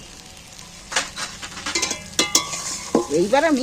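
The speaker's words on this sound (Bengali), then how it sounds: "একই সাথে একটু নাড়াচাড়া করে ভেজে নেব" A spatula stirs and fries a spiced egg mixture, salted and sprinkled with chili powder, in a pan, with scraping strokes over a steady close sizzle. A person speaks briefly at the start.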